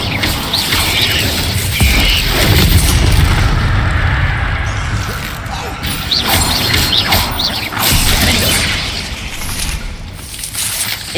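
A fire spell erupts in Hogwarts Legacy with loud, rumbling whooshes and booming bursts, rising and falling across the clip amid crackling game effects, with no one talking over it.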